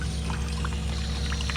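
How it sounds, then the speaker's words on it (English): Water trickles and drips steadily into a livestock water trough at a faulty float valve, a close, continuous light splashing with no talk. "That's just dripping down into the trough."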